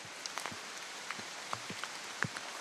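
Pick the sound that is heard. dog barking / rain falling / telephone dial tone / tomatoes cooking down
rain falling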